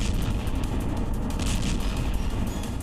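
A Blue Origin rocket explodes: a sustained, heavy roar of explosive rumble with crackling bursts, loud and continuous throughout, like a large blast echoing.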